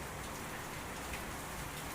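Steady rain falls and patters on surfaces, a continuous faint hiss with no voices.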